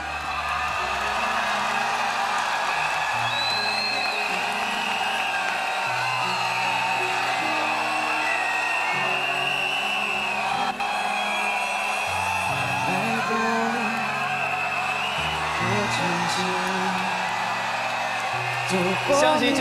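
Audience at a televised singing competition whoops, cheers and applauds, a continuous bright wash of crowd noise beneath a host speaking over it, with occasional louder shouts.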